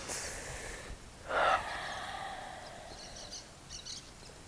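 A speaker breathes close into a microphone while pausing to think, with one short, sharp inhale or snort-like breath standing out over quiet, soft background breathing.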